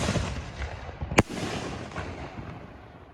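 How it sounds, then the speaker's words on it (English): A firework shell bursts, a red coconut with green glitter effect: rumbling launch noise, then one sharp crack a little past the first second, followed by a fading crackle and rumble at moderate distance. "Number 5, red coconut green glittering."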